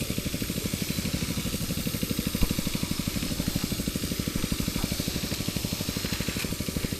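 A small motorcycle-type engine runs at raised throttle in a rapid, even chugging beat that holds steady throughout, with no voices.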